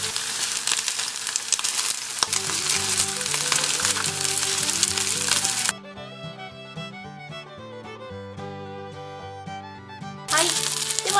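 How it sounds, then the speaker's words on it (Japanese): Balls of thin-sliced pork sizzle loudly in a frying pan and are flipped to brown the other side. The hiss cuts out midway, leaving only background music, then returns near the end. "ではそこにこんがり焼き目がついたら返して半面も焼いていきます"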